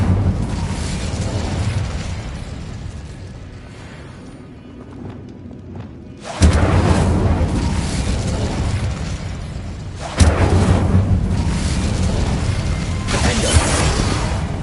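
Incendio fire spell in Hogwarts Legacy, heavy booming bursts that erupt suddenly twice with roaring, crackling tails over a continuous rumbling game background.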